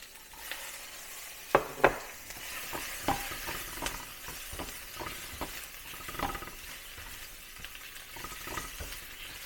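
Green peppers tossed into a hot pan for sweet and sour pork, soft sizzling with frequent stirring clinks and utensil taps against the pan, moderately quiet and close.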